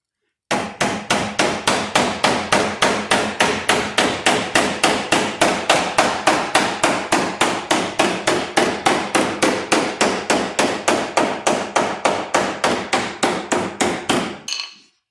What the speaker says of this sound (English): let's get back to beating some steel